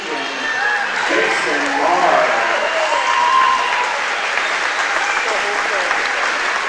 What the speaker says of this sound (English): Nice hand by the home crowd here tonight.